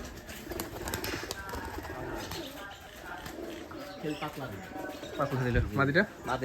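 Racing pigeons coo on a pigeon farm, a steady mass of soft low calls close by, swelling louder toward the end, with people talking over them.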